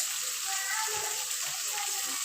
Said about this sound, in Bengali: সামান্য আমি পানি অ্যাড করলাম দিয়ে আমি চিকেনটাকে ভালো করে নেড়ে চেড়ে নেব